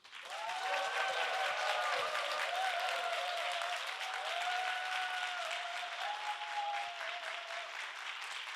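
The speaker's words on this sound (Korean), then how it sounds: "미친 듯이 박수를 많이 쳐주시면" A crowd at a Korean book concert claps loudly and continuously to welcome two guests onto the stage, a dense steady applause with faint voices and cheers mixed in.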